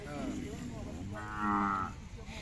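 A young bull gives a long, low moo that swells louder midway before fading, heard close by over quiet background noise, at a village fair in Sangola, Solapur, Maharashtra.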